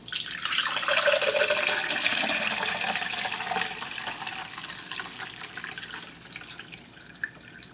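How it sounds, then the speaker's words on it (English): Homemade horchata with cinnamon sticks poured through a small kitchen strainer, a steady close liquid trickle and splash that gradually thins and quiets, with no talking. "I'm just gonna strain it right now"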